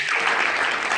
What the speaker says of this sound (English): the other person I want to give a massive round of applause for is one of my best friends, my business partner, Mr. Matthew Rose